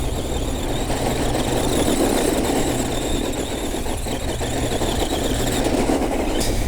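A small Arrma Voltage 2WD electric RC car drifts across dirt. Its motor gives a steady whine and tires squeal, loud and close, over constant gravel and scrabbling noise with no talking.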